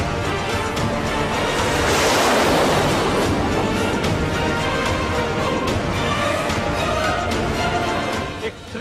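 An F-16 fighter jet taking off, the second of a pair, as a steady, loud broadband roar that swells slightly and holds for about nine seconds, with no talk.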